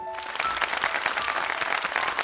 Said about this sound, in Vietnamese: và một tràng pháo tay ạ